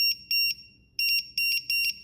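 Battery voltage checker set to a 3.3-volt cutoff for a WLToys Sky-King F959S RC plane battery, sounding a low-voltage alarm: sharp, loud electronic beeps, three evenly spaced, a pause, then a faster burst of several more, close up with no talk.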